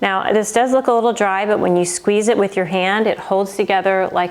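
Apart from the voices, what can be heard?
None of the usual background noises is heard.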